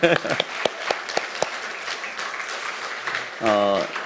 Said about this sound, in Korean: 이제 이번에는 마치 결혼식장에서 하는 것처럼 너무 박수 한번 해주실까요?